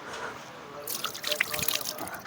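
Water pours and trickles in short splashes for washing hands during summer, starting quietly and growing busier midway, close and fairly soft with faint voices around.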